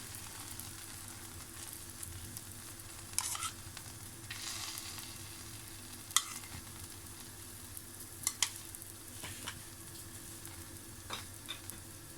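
Stuffed cauliflower paratha fries in ghee on a hot griddle, a steady soft sizzle throughout with occasional louder crackles and spatters.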